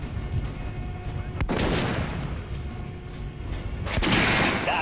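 Gunfire from the shooter game Metro Last Light, with two sharp, loud shots or bursts ringing out over a low rumbling in-game background.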